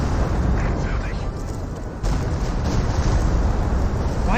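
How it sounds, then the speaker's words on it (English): A rocket barrage hits in the game Company of Heroes 2, a loud dense roar of overlapping explosions and rumbling booms with a sharper impact near the middle, continuous and close. "Got another rocket barrage raiding on in."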